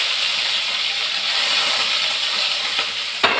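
Onion and curry leaves sizzle in hot oil in a frying pan, a steady bright hiss that holds evenly throughout, close up with no talk.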